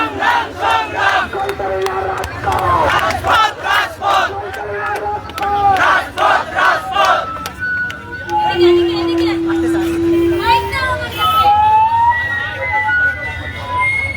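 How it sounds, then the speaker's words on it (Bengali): Students chant slogans in unison during a street protest in Sylhet, a loud rhythmic crowd roar that continues throughout, with rising siren-like wails cutting through in the second half. "হামলা বলে স্লোগানে মুখরিত সিলেটের রাজপথ"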